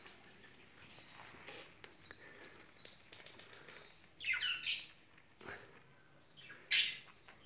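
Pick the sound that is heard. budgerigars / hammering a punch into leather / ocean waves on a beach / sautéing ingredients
budgerigars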